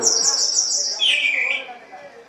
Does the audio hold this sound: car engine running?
no